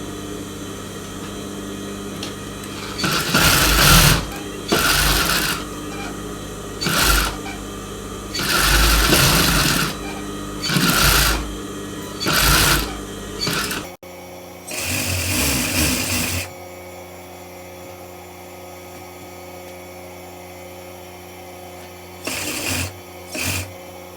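A sewing machine stitches a lined blouse, attaching a belt at the front, in repeated loud bursts of rapid mechanical whirring separated by short pauses, close to the mic, with no talking.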